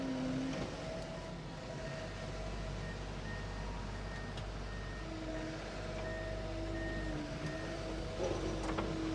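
A Komatsu PC88MR-11 excavator runs with a steady, low engine drone at fairly quiet revs, while faint intermittent beeping tones repeat over the hum.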